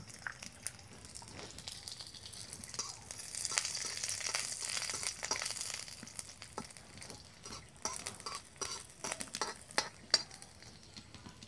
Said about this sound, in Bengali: এই তেলের মধ্যে দিয়ে দিব কয়েক কোয়া রসুন। রসুনটা ভেজে নেব।